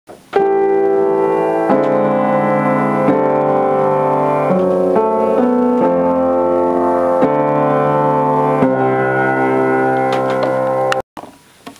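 A piano plays a sustained sequence of chords, each held for about a second or more, loud and close, ending abruptly.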